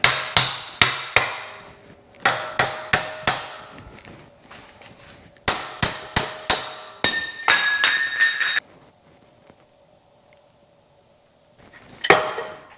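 Metal hammer blows driving a part out of a coilover shock, bright ringing strikes in quick bursts of three or four with short pauses between, then a single final blow.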